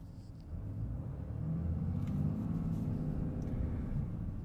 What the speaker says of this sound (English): There is a lot of diesel clatter.